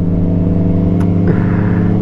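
A Yamaha MT-09 motorcycle engine holds a steady, loud mid-pitched drone close by, with a brief lift in revs partway through and no talking.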